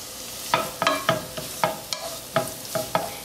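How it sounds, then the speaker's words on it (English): Squash drops into a hot pan with garlic, setting off a sizzle cut by about eight sharp, evenly spaced scrapes and clinks of a utensil, close up, with no talking. "Then we're going to take some of this beautiful squash and we're going to drop it in."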